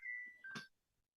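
An incoming-call phone ringtone gives a short, sustained electronic tone that shifts pitch once and cuts off, faint and alone in a quiet room.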